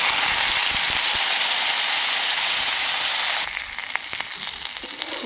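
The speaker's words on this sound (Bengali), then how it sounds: "উচ্ছেটা কিন্তু হালকা ভাজা ভাজা হয়ে গেছে।" Bitter gourd frying in oil with five-spice seeds and onion in a wok, a steady dense sizzle throughout that drops slightly in level partway, with faint stirring scrapes near the end.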